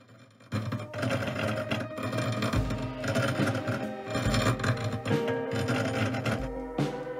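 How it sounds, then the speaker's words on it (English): A silver foxtail chain bracelet is worked over a metal mandrel to loosen its stiff links, producing continuous close jangling and rattling of the chain with low thuds and scrapes. "So to loosen the bracelet, I'm pulling it over a mantle which is gonna loosen it."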